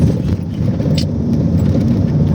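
A car drives along with a loud, steady low rumble of engine and road noise filling the cabin, and a brief jingle of keys or loose items rattling near the start.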